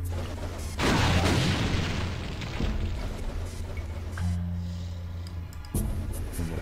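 Explosions rumble and boom in Brutal Doom: a heavy blast with dense low roar, then a steady wash of combat noise and a second sharp burst near the end, loud and continuous.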